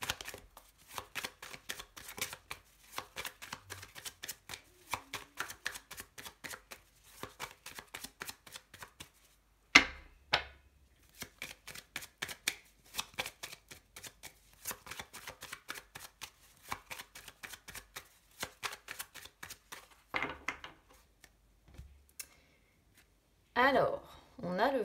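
Tarot cards are shuffled and cut before a reading, with quick rhythmic riffles and slaps repeating in close, crisp runs, then brief pauses and a short stretch of talk near the end.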